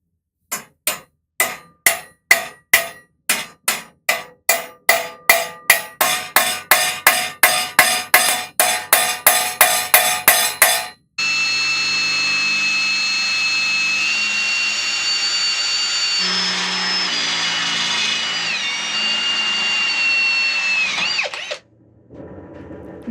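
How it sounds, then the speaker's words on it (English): A drill bores a hole through the outer layer of a steel tube for a DIY belt edge sander. A run of sharp, evenly spaced strikes quickens first, then a steady, loud, whining drill note holds for about ten seconds and stops abruptly. "So I'm just going to drill a hole through the outer layer of this steel tube,"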